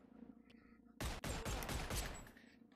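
Gunfire in the VR video game Bone Lab: a sudden loud burst of rapid, overlapping shots erupts after a quiet stretch and keeps going for well over a second before trailing off.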